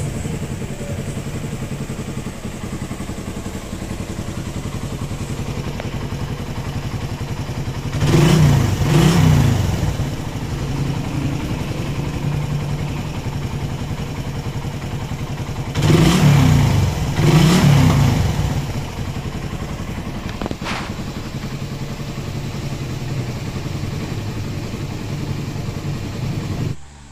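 A Yamaha Raider 150 motorcycle engine with 103,000 km, due for a top overhaul, idles with a rough clatter, then revs loudly twice in short bursts before settling back to idle, close up with no talk.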